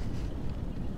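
Cold wind gusts against the microphone in Beni, Nepal, a steady low roar filling the short stretch with no voices.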